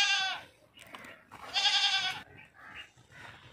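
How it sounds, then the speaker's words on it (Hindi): A purebred foreign goat being sold bleats loudly and close in two drawn-out, quavering calls, with quieter bleats and some muffled talk in the pauses between them. "नस्ली बकरी नस्ली गैर मुल्की बकरी है"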